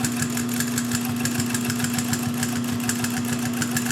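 Pfaff 134 industrial sewing machine stitching through thick layers of denim, a loud, continuous mechanical hum with a fast, even stitching rhythm running throughout, close up and without talk.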